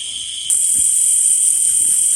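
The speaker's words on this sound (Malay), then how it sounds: "Nikmati bunyi cengkerik." Shrill, continuous insect chirring at night, a dense high-pitched buzz that grows louder partway through, with faint low rustling beneath.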